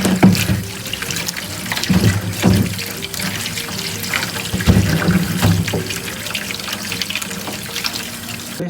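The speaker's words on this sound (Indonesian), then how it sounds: "Setelah melewati proses pengupasan, langkah selanjutnya adalah proses pencucian." Peeled cassava is washed by hand in water, with steady splashing, trickling and sloshing close by and louder surges every few seconds, and no voices.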